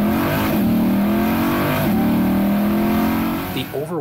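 A 2022 Chevrolet Corvette Stingray accelerates hard with its tires briefly spinning, the engine roaring loud and close before a quick upshift from first into second carries it on.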